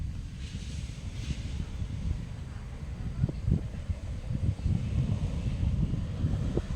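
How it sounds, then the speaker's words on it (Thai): Wind blowing through an outdoor durian orchard, a steady low buffeting rumble with gusty surges, loud and close as it pushes against the microphone. "ลมก็พัดจังเลยครับ"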